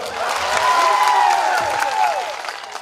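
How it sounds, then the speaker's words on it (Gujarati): A crowd at an outdoor political rally in Kavant applauds for the police with loud, sustained clapping, swelling then easing, with some voices mixed in. "પોલીસ માટે એકવાર જોરદાર તાળીઓ પાડી લો"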